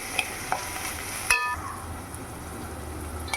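Onions and tomato fry in a pan for a wheat-flour onion dosa with a low, steady sizzle, broken by a few light clinks and scrapes of a stirring utensil against the pan.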